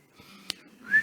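A preacher imitates whistling with a short, close, rising whistle near the end, following a brief breathy sound and a click in a quiet room.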